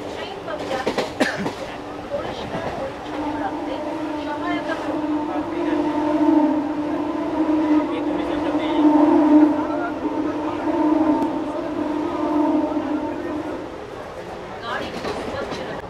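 A Barddhaman–Howrah chord line local train runs at speed, its steady rumble carrying a sustained droning tone that swells and then fades near the end.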